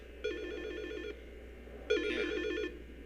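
Two warbling electronic rings from a telephone in the horror game Silent Hill Shattered Memories, each lasting under a second with a gap between, loud and near against a quiet humming background.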